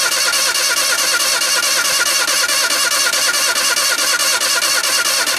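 A truck engine running on wood gas made from firewood rather than gasoline, with a loud, steady, close drone and a fast pulsing rhythm that holds for the whole stretch.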